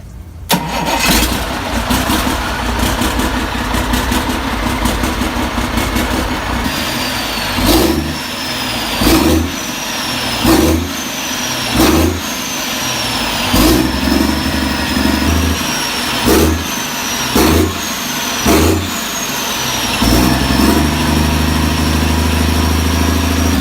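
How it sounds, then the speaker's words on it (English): A turbocharged 1980s Cummins L10 10-liter inline-six diesel engine cranks and fires, then settles into a loud, rough idle that pulses with repeated revs. "Fire up the Cummins L10, a 10-liter inline-6 diesel from the 80s."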